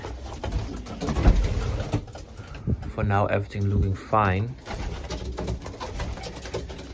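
Racing pigeons coo in their loft with a few close, rising throaty calls in the middle, while someone talks over shuffling and rustling noises.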